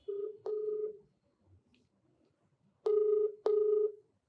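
Four telephone keypad tones sound as a number is dialed to place a call, with two beeps at the start and two more after a short silent pause, clear and fairly loud.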